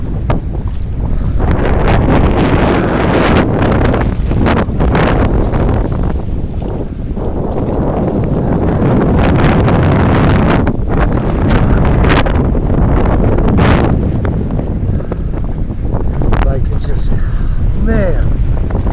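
Strong 40 mph wind gusts roar and buffet the microphone nonstop while riding a bike at Lake Murray in 27°F cold, a loud, rumbling, fluctuating blast that covers almost everything else.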